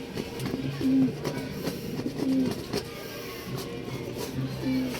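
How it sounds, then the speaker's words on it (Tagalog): Pigeons coo in low, repeated phrases, roughly three or four bursts spaced through the clip, with faint background noise and no voices. "Subukan natin i-clock yan mga kalapatids."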